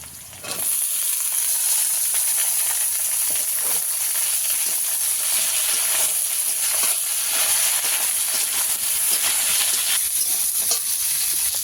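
Eggplant and potato fry in hot oil with panch phoron in a steady, loud sizzle and hiss that runs throughout, with occasional stirring scrapes.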